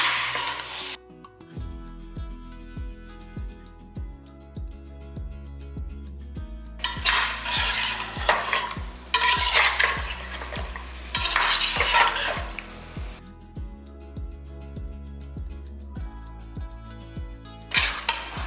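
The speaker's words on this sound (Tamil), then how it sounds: "சிக்கன் வந்து நல்லா உதிர்ந்து வர அளவுக்கு நல்லா வதக்கிக்கலாம்" Chicken pieces with salt being sautéed and stirred in a pan for a chicken gravy, with steady sizzling and utensil scrapes under background music throughout.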